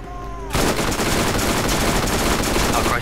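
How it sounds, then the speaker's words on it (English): Sustained automatic fire from a light machine gun in the video game Borderlands, a dense unbroken burst starting abruptly after a brief lull and continuing loud and close to the end. "Ooh, light machine gun."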